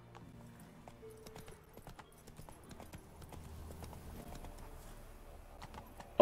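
Horse hooves clip-clop in The Witcher 3 video game, a steady run of soft, fairly quiet hoofbeats over low game sounds, with a little talk around them.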